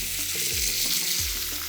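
A splash of water hits pumpkin frying in a pan, setting off a loud, close hiss and sizzle that carries on steadily, with a few low bubbling knocks underneath.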